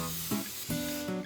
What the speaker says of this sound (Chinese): 这个呢是一次性的油喷雾。